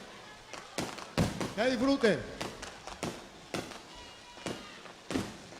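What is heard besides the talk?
fireworks exploding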